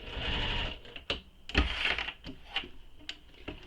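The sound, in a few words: sewing machine back stitching a bag corner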